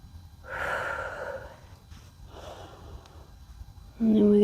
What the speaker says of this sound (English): Taking a few rounds of breath.